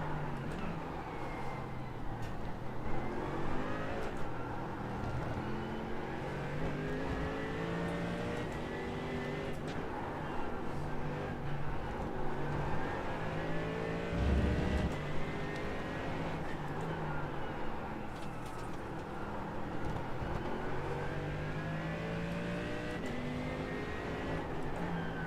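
A race car engine in the iRacing sim at Fuji drones steadily throughout, its pitch rising and falling through gear changes at a constant, fairly loud level with no talk.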